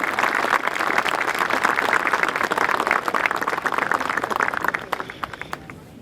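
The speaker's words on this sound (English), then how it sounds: "Let's have a big round of applause for the Emblem Club." Audience applause at a Veterans Day ceremony in Winthrop, greeting the Emblem Club: dense, steady clapping from many hands that carries on evenly, then thins to a few scattered claps near the end.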